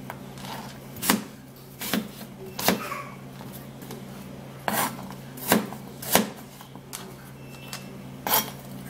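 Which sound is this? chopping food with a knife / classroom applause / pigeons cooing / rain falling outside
chopping food with a knife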